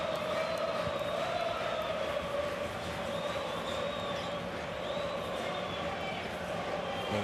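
Basketball arena crowd at a EuroLeague game between Maccabi Rapyd Tel Aviv and Panathinaikos, a dense, steady roar of many voices with whistling tones, loud and continuous throughout with no break.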